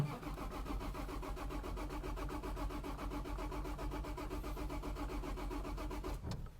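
A manual transmission vehicle starts in third gear, low range, on flat level ground, with a steady, rhythmic mid-pitched engine chug running loud and continuous, then cutting off abruptly near the end.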